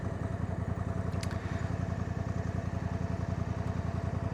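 Honda Africa Twin motorcycle engine under way, a steady, close, low pulsing drone with an even, rapid firing rhythm that holds constant throughout, with no talking.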